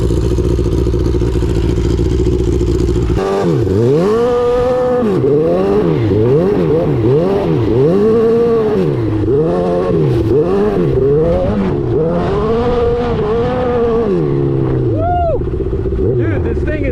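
Turbocharged Hayabusa-swapped Raptor ATV engine revving repeatedly around 4,000 RPM with a two-step, loud and close, rising and falling in rapid rhythmic pulls over a steady low idle rumble.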